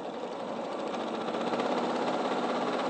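A sewing machine stitches through fabric and wadding with a fast, even, continuous mechanical whirr, close and steady, with no voices.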